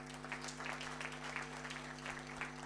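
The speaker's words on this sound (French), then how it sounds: "Applaudissez pour cette activité." An audience applauds at a talk, a soft, continuous patter of clapping heard at a distance over a steady electrical hum.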